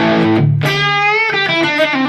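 Electric guitar played through a Marshall amp with medium room reverb, a few sustained distorted chords ringing out one after another, close and loud, with the room tail blending each change.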